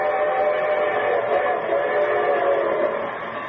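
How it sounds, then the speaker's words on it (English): A loud, sustained train whistle blares over the rumble of a moving train, with a muffled, old-recording quality from a 1950 radio broadcast. "And here comes the star-studded show train."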